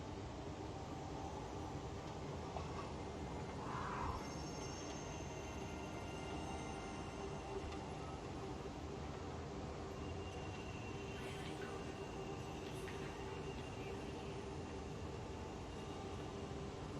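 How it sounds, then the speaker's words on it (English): A tram pulling away from a station, a steady low rumble of wheels and motor holding constant throughout, with a faint brief squeal near the start and light higher rattles later. "Tram now leaving the station."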